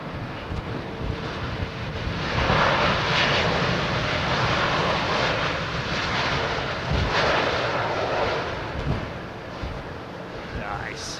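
Royal Jordanian airliner passing close by near Heathrow, a broad steady jet roar that swells around the middle and holds, with wind buffeting the microphone and no talk over it.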